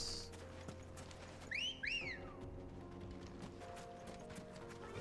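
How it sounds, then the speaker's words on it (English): A short two-note rising whistle sounds in Final Fantasy XVI to summon a chocobo, clear and bright over low game ambience with faint mechanical ticks and soft hoof-like clops. "Whistling just materializes a chocobo."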